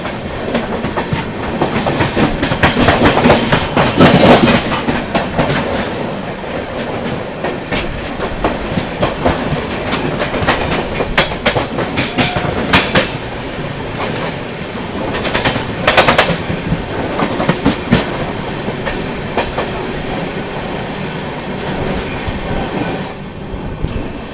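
Yesvantpur–Nizamuddin Karnataka Sampark Kranti Express passing on a crossing, a loud close rush of rolling wagons with rapid rhythmic clickety-clack of wheels over rail joints throughout, alone without talk.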